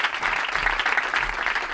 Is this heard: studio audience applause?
yes